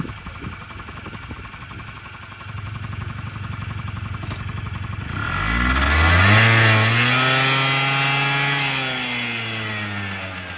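A small 49cc two-stroke Honda Tact AF-30 scooter engine idles with a buzzy rattle, then revs up to a loud whining peak and settles back to a steady higher drone.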